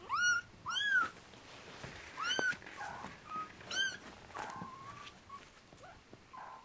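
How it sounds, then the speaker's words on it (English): A foster kitten meows indoors in a house, several clear rising-and-falling cries in quick succession near the start and again a few seconds later, fairly close, with quieter softer mews and room noise in between; no one speaks. "I heard her meowing down the hall"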